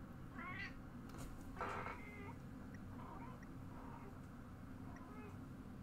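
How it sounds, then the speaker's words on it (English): A cat meows a few times, faint and somewhat distant, over a steady low hum, with a brief murmur of speech in between. "Cat is going meow meow meow"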